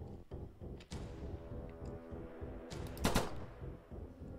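Rapid gunfire from the video game They Can't Stop All Of Us rattles in dense bursts, with a sharper, brighter shot cluster near the end over a busy game soundtrack.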